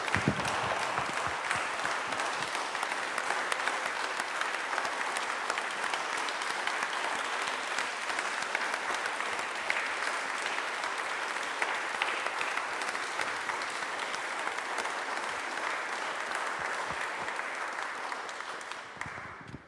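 Sustained audience applause at a national park event, a dense and even roar of many hands clapping that holds steady for nearly twenty seconds before tapering off at the end.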